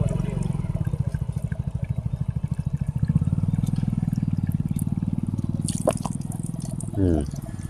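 Drinking water runs from a village tap, a steady rhythmic gushing splash that continues for several seconds, close and fairly loud, with a brief clatter near the end.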